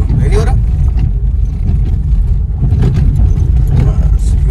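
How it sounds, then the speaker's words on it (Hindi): A Ford Fiesta Classic drives off-road over a rough, bumpy track, its cabin filled with a loud, steady low rumble and scattered knocks and rattles from the suspension throughout. "अब एक बार वापस अपन ऑफ रोडिंग में टेस्ट कर रहे हैं गाड़ी को कि वापस वो शॉकर की खड़खड़ की आवाज़ आ रही है कि नहीं आ रही है।"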